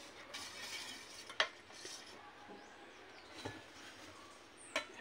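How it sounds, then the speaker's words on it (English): A spoon stirs a puto flan mixture with lemon juice and vanilla in a bowl, giving soft swishing and a few sharp metallic clinks against the side, quiet and close. "And stir well."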